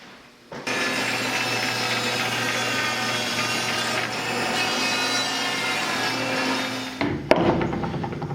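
A bandsaw fitted with a circle jig set to a 6-inch pivot cuts a 12-inch wooden circle, a loud steady buzzing rasp that starts abruptly, runs about six seconds, then stops with a few clunks.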